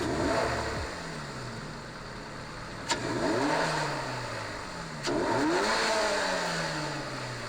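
A Toyota GR86 / Subaru BRZ engine fitted with an aftermarket cold air intake, revving repeatedly with rising and falling pitch sweeps and a couple of sharp clicks between revs, moderately loud and close, no talking.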